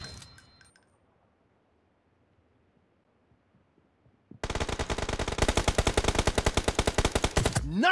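Automatic gunfire in PUBG erupts after a near-silent stretch, a loud, rapid, sustained burst of evenly spaced shots lasting several seconds.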